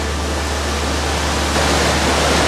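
Rushing water from a mountain creek on the Pacific Crest Trail near Mt Whitney, a steady broadband roar that continues unbroken and rises slightly in the second half, with no voices.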